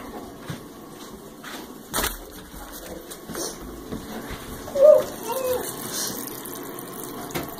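Water runs from a tap into a bathtub, a steady rushing wash beneath a brief splash near the middle, with a voice heard faintly.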